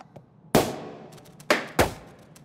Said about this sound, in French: qu'on les terrorise avec des explosions de canons à confetti